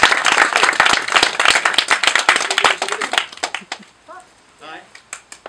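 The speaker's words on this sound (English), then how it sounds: "Again, a round of applause for them" A room of wedding guests applauds the couple, the clapping dense and loud at first, then thinning into scattered claps as a voice begins speaking near the end.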